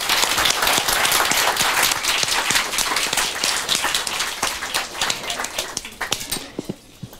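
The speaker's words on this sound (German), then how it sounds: "Ich finde, das hat einen großen Applaus verdient." An audience at a youth hackathon's closing presentations in Frankfurt am Main gives sustained, lively applause, with many hands clapping at once before the sound gradually thins into scattered claps.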